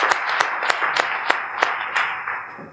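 An audience claps after a speaker's career talk, with loud distinct hand claps standing out over a softer bed of applause that gradually thins toward the end.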